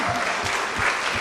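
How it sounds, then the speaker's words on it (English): Brief burst of applause at an annual town meeting in Nahant, a packed hall clapping steadily, with a few low thumps of stamping or handling underneath. "can I ask for a rousing round of applause for our tellers?"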